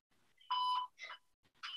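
Electronic workout timer bell beeping during a bear-crawl fitness class: a long bright tone followed by two shorter beeps, moderately loud and clear, with no talking over it.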